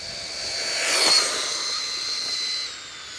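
An affordable RC buggy run at full throttle gives a high, airy motor whine that swells to a peak and then eases off as it speeds away. No one speaks.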